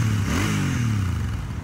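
Royal Enfield Super Meteor 650 motorcycle engine revving up close, a short throaty rise and fall of the twin's exhaust note heard alone.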